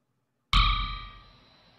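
A single synthesized drum hit from an FPGA drum simulation strikes sharply and rings on with a bright metallic tone that slowly decays, heard alone after silence.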